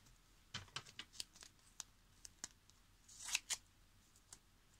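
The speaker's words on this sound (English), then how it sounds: "I'm gonna cut pieces like this here." Scissors snip the side pieces of a CD/DVD stand, probably cardboard, in a string of quiet, close, crisp clicks. A denser pair of snips comes near the end, with no talk over them.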